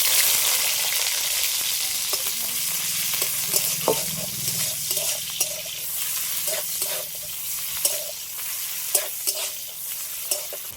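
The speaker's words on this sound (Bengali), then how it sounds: "তেলের মধ্যে দিয়ে দিচ্ছি কালো জিরে পেঁয়াজ কুচি" Nigella seeds and chopped onion frying in hot oil in a pan used earlier for frying brinjal, a loud continuous sizzle with repeated spatula taps and scrapes as the pieces are stirred.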